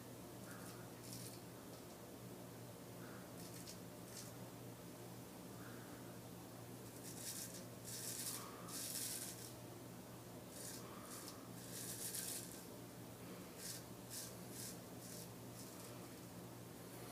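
Hollow ground straight razor (OCD Marlin) scraping across stubble in short bursts of faint, hissy rasping, with gentle strokes repeating over a steady low background hum.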